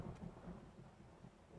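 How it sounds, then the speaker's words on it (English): Thunder in the survival video game 7 Days to Die, a faint low rumble with a rain-like wash, heard alone and steady for a moment. "I can hear it thundering."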